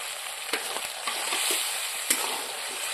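Spice paste mixed with sour yogurt and green chillies is stirred in a frying pan for an egg curry, with a soft continuous sizzle broken by light spoon taps and scrapes.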